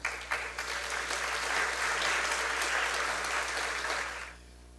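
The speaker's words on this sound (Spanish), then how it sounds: "Recibimos a nuestro invitado internacional con un fuerte aplauso." A strong burst of audience applause welcomes an international guest at a legal seminar, dense clapping rising quickly, holding steady, then fading out near the end.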